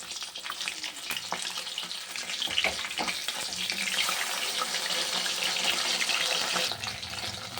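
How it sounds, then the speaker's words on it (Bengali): Fish fries in hot oil in a home kitchen, a loud steady sizzle and crackle building and holding for several seconds with occasional clinks, and no talking over it. "এই দেখো এক পিঠ মাছ ভাজা হয়ে গেছে"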